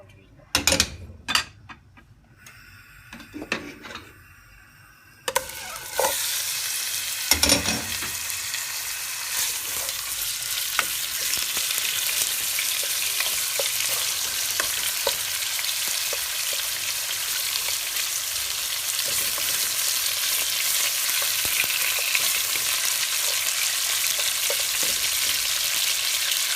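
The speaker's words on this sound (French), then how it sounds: "Et là, je vais l'incorporer dans l'huile." Salted lamb pieces for mafé drop into oil with a few sharp clatters and pops, then a loud, steady sizzle of frying builds and holds close by for the rest of the stretch, with no talking.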